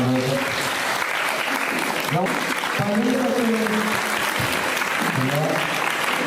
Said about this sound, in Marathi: कार्यक्रम जर आवडला असता तर एकदा भाऊजींसाठी जोरदार टाळ्या